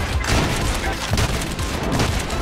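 A big explosion and rapid gunfire erupt in the Trepang2 video game, a dense, loud, continuous roar of blasts and shots with no pause.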